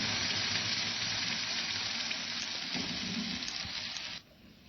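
Cooked dal poured into a hot ghee tempering of cumin and turmeric, giving a loud, steady sizzle that carries on for about four seconds, then cuts off abruptly into quiet.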